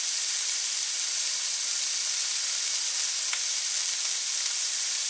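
Goose stir fry browning in a hot pan, a constant even sizzle and hiss close up, left alone without stirring, no voices.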